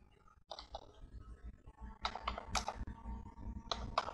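Computer keyboard keys tapped while entering a member ID and password to log in, coming in short clustered bursts of quick clicks separated by pauses, close and fairly quiet.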